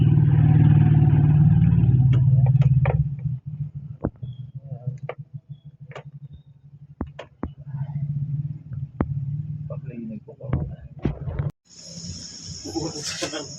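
A Honda Click 125 scooter engine runs steadily at first, then settles into a patchy, uneven idle with scattered clicks and clattering from the repair work, ending with a high hiss.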